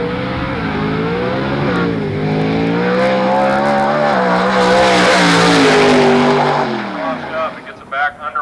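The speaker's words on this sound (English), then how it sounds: "As this car makes its way down the race course, the computer dumps more nitrous" A nitrous-fed drag race car roars down the course at full throttle, a loud, steady engine howl with pitch climbing and shifting, then fading away near the end.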